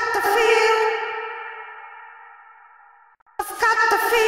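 A bright tonal hit drenched in Baby Audio Crystalline reverb rings out, its shimmering tail fading slowly over about three seconds before fresh hits start again.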